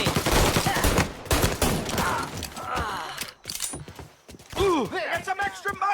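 Gunfire in Mafia Definitive Edition, loud bursts of sharp shots and mechanical clatter packed close together, thinning into scattered cracks alongside bits of game dialogue and whooshing effects.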